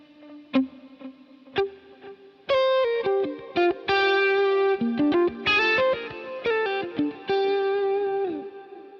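Electric guitar notes and chords ring out through a stereo tape delay bouncing left and right, echoes trailing after each plucked phrase, played alone with sustained, slightly distorted Dumble-style tone from a Line 6 Helix or HX Stomp.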